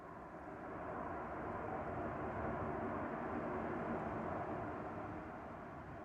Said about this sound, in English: Definitely need to make use of those reverse thrusters.